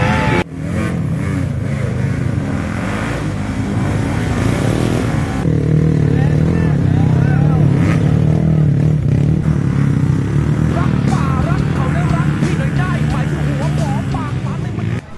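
An enduro motorcycle sets off at a race, its engine roaring loudly and revving continuously with clattering under an excited commentator's voice and crowd noise throughout.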